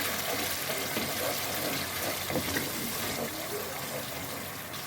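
Water poured steadily into a pot for pasta, a continuous close rushing splash that holds at a constant level throughout.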